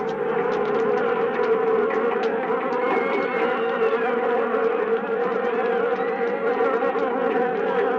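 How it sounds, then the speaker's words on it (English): A swarm of killer bees, a fierce breed of honeybee, buzzes in a dense, continuous drone of many wings, steady and fairly loud throughout with no voices. "a swarm of killer bees attacked in downtown Rio"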